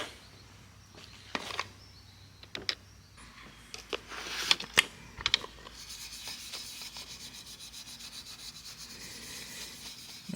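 Restoration product is rubbed by hand onto a 1969 Ford F100 door panel, making soft, close scrubbing and rasping strokes with scattered small knocks, then a steady faint hiss.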